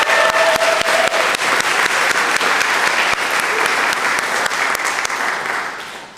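A church congregation at a Sunday morning worship service applauds the band, loud sustained clapping from many hands with a few sharp individual claps standing out, slowly tapering at the end.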